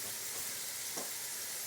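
Yellow bell peppers sweating with onions in a pan, giving a soft, steady, continuous sizzle with one faint brief utensil touch, heard alone without talk.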